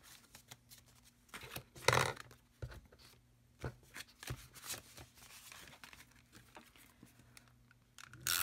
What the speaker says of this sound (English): And I'm also going to be taping it again.